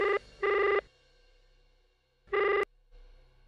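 A home landline telephone rings in loud electronic trills, with two short bursts, a pause, and then another burst in a quiet room.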